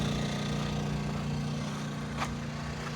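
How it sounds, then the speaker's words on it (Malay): Small wooden fishing sampans moving along a river near a fishing spot, giving a steady, fairly close outboard-engine drone that holds without a break, with no voices. "Keluar masuk sampan nelayan."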